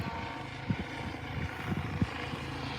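A Citrus County Sheriff helicopter flies overhead outdoors, its steady rotor drone and engine hum close and continuous, with a few brief thumps rising above it.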